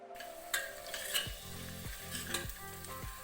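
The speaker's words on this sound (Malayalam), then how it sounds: "നന്നായിട്ടൊന്ന് മിക്സ് ചെയ്ത് കൊടുക്കാം." Onion masala with garam masala and crushed ginger-garlic sizzling steadily in a pan while a spoon scrapes and stirs in repeated strokes, close and continuous, with no talking.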